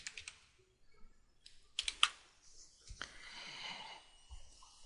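Scattered keystrokes on a computer keyboard while someone works on web code, quiet and irregular, mixed with soft breathing or sniffing noises.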